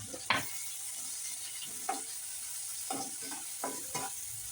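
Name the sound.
onion and capsicum being stir-fried in a pan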